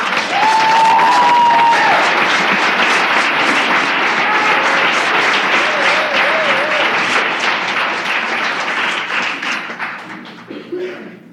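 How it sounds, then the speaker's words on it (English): An audience applauds college graduates with steady, dense clapping that fills the room, loud at first and slowly fading toward the end, with a faint voice briefly audible underneath. "I would like to applaud them in the program"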